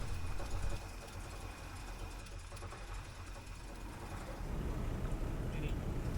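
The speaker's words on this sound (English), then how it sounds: "it sounds like it's running on 7 cylinders" A 1964 IH Travelall C1100 engine idles rough, running on seven cylinders, with a steady low rumble that swells slightly near the end; a voice talks over part of it.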